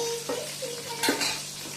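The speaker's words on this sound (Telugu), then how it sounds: "ఫ్రై కావాలి మంచిగా. మిర్చి కూడా వేస్తున్నానండి." Green chilies fry in hot oil in a pan, giving a steady soft sizzle while a utensil scrapes and clinks against the pan in a few stirring strokes, close by and with no talking.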